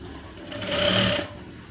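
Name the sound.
sewing machine stitching a blouse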